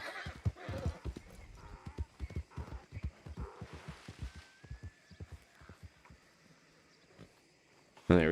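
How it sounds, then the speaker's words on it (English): A horse in the Red Dead Redemption 2 video game clip-clops with a run of close, rhythmic hoofbeats, then a breathy snort and whinny as it slows, ending in quiet. "Picking up his horse."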